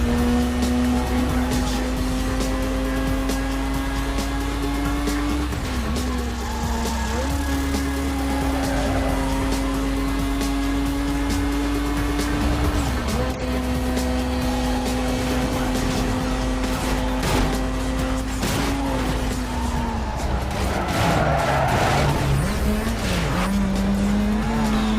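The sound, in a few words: racing car skidding on missed turn, Need for Speed: Most Wanted video game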